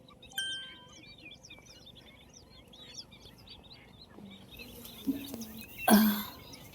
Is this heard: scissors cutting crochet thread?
no